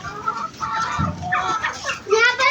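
Hens in a backyard coop where eggs are laid, clucking in short broken bursts close by, several calls overlapping, with a faint voice in the background.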